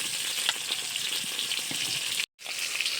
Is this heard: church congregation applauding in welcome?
no